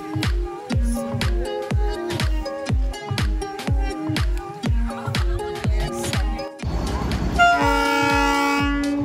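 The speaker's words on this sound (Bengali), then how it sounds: "এখানে 5-10 মিনিট অন্তর অন্তরে কিন্তু ট্রেন পাস করছে।" Train near Ghum station in Darjeeling, with a rhythmic series of loud, regular chuffing beats passing close by, followed by a sustained tonal horn toot at the end.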